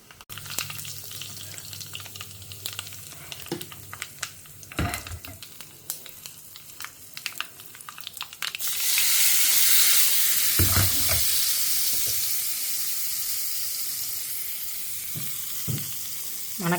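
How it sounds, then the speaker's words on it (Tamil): Mustard seeds, urad dal, asafoetida and curry leaves in hot coconut oil, tempering for a banana stem buttermilk kootu: scattered sharp pops and crackles at first, then a sudden loud, sustained sizzle that slowly eases off. "கடுகு பொரியட்டும்."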